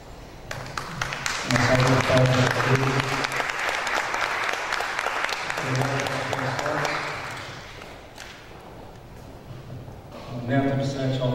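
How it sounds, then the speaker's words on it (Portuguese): A crowd applauds at the Troféu Seth animation award ceremony at the MNBA in Rio de Janeiro, with sustained clapping that swells and fades. A presenter's voice speaks over it at times. "Uma salva de palmas."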